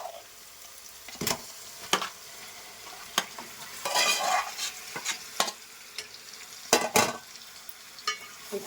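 Chicken pieces being stirred into a tomato gravy in a pan: a soft simmering sizzle punctuated by a series of sharp spoon scrapes and clacks at irregular intervals, close by, with no talk.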